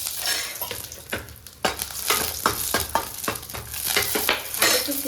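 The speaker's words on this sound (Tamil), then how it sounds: "இதில் கொஞ்சம் ஆயில் விட்டுக்கலாங்க. மிளகு கொஞ்சமாக சேர்த்துக்கலாங்க." Black pepper frying in oil in a pan for mint chutney, a lively close sizzle broken by repeated stirring scrapes and clinks of a utensil against the pan, with no talking.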